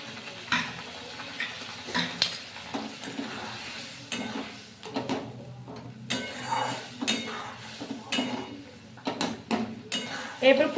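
A spiced masala with cashew paste and a little water is stirred in a pan for a vegetarian potato and pointed-gourd korma. Repeated spatula scrapes and knocks against the pan sound over a soft sizzle, with a voice in the background.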